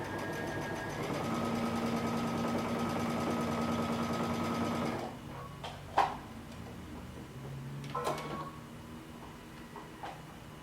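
A home sewing machine runs a steady top-stitching line along the pressed edge of a cape collar, then stops after about five seconds, followed by a few soft clicks and fabric handling sounds nearby.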